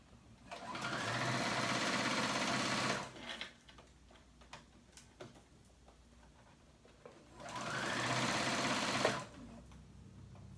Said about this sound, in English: I'm just doing a straight stitch right here.